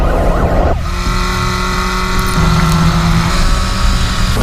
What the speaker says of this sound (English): how to do a first gear burnout on any motorcycle